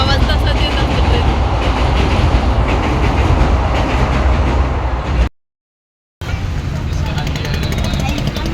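A local train running toward Lonavala rumbles loud and steady close by, with clattering wagons. A short total dropout cuts the sound about two-thirds of the way through, then the rumble resumes.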